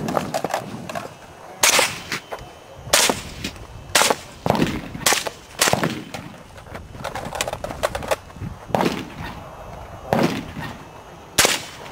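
Suppressed MK12 rifle fires repeated sharp shots at an outdoor night match, about a dozen cracks spaced irregularly, some in quick pairs, loud and close with short ringing tails between them.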